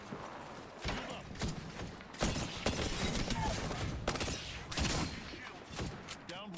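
Bursts of video game gunfire from Apex Legends in a busy firefight, with repeated sharp volleys and rapid shots running through the clip, loud and close, mixed with other game sounds.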